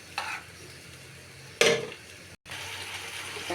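Fried potatoes going into a pan of spiced masala, sizzling steadily close up, with sharp bursts of a spatula scraping and stirring.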